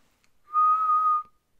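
A single clear whistled note, steady and sustained for under a second, with silence before and after.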